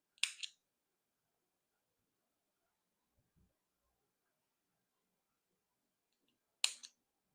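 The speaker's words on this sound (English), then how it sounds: "Now cut these extra yarns." Scissors snipping extra crochet yarn, two short crisp clicks several seconds apart in an otherwise quiet room.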